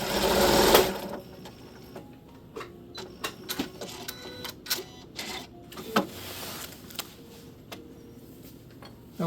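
A sewing machine stitching a straight stitch along a quilt border, starting with a loud burst and then settling into quieter, irregular clicks and short runs of needle movement, close to the mic.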